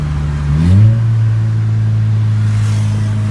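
A Volkswagen Jetta TSI 2.0 fitted with an exhaust diffuser blips its engine once, the pitch sweeping upward, then settling into a steady, loud, close droning rumble that holds to the end with no talking.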